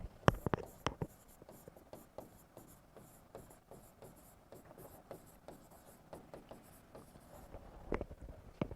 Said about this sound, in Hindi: तो ये भी लिख देता हूं मैं।